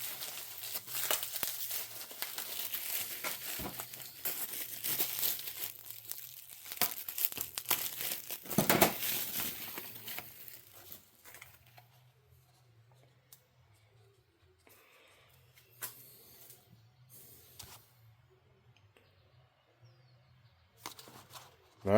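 Chainsaw cylinder gasket sets are pulled from their crinkly plastic packaging, with close rustling, crumpling and tearing over the first half, then only sparse faint handling noises.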